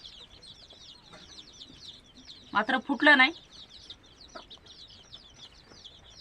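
Chickens cluck in a short loud burst of a few calls near the middle, over a constant high chirping of chicks in the background, with a brief spoken phrase.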